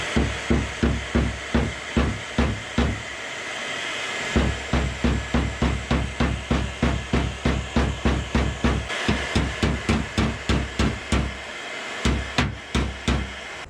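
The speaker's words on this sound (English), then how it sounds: "So rubber mallet was taking too long" Rubber mallet knocking on a budget drift car's body panel, a long run of sharp evenly spaced thumps with two brief pauses, close and loud, with no talk.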